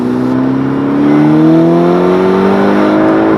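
A Golf GTI MK6 with a Revo stage 1 tune and a budget intake accelerates hard on a hot lap. The engine note is loud and close, its pitch climbing steadily and smoothly with no talk over it.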